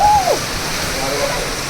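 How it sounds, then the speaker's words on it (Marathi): A steady, roaring rush of heavy rain driven by wind, constant and loud, with a brief whistling tone at the start. "वादळी पाऊस आहे लय वादळी पाऊस आहे"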